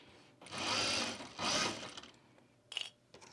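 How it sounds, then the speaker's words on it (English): A sewing machine edge stitches a travel bag closed, running in two steady whirring bursts with a brief pause between, then a couple of short mechanical clicks and taps at the end. "now we're gonna just edge stitch this closed"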